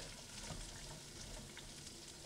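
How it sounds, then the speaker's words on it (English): Carrots and scallions sizzle in a hot pan during a chicken stir fry, a steady, faint crackling hiss with no break and no talk over it. "You can hear it starting to sizzle."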